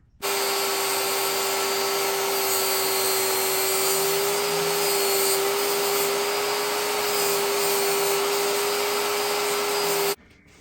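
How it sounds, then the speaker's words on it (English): A saw running steadily through a wood edge to cut a bevel, giving a loud, unbroken whine with an even tone that holds for about ten seconds and then stops abruptly. "I'm going to take and run it through my saw right there and put a nice bevel on this edge right here."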